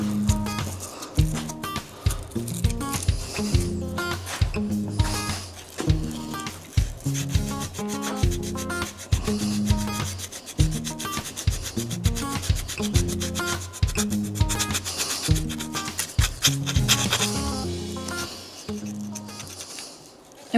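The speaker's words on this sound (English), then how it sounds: "Now the rest of this we'll do with 320." Hand sanding with 320 grit sandpaper on Harley motorcycle paint and primer, heard as close, rhythmic back-and-forth rasping strokes that repeat steadily with short pauses, no voices over them.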